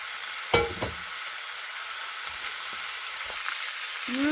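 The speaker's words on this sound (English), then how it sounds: "I'm using a cast iron pan because that'll help sear it" Pork sears in a cast iron pan with a continuous hissing sizzle, opened by a sharp knock and a few light scrapes and taps of a utensil; no talking.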